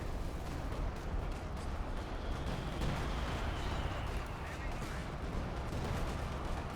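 Artillery barrage in Company of Heroes 2: dense, continuous rumbling booms and crackling gunfire blend into a loud, sustained wall of indirect fire with no pauses.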